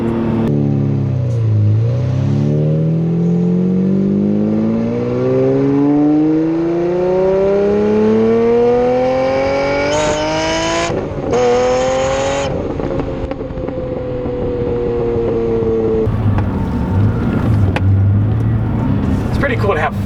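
Lamborghini Aventador V12 accelerating hard, the engine climbing in one long loud sweep with a brief shift stumble near the middle as traction control cuts in, then falling to a rough idle burble; someone talks over it.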